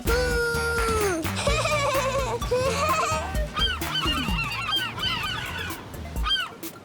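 Seagulls in a Disney Junior children's video game call and honk loudly and repeatedly, with layered squawking cries close up over a busy animated soundtrack.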